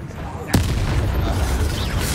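The Confringo explosive spell goes off in the Hogwarts Legacy video game, one sudden sharp blast followed by a rumbling, crackling tail, with voices and game effects around it.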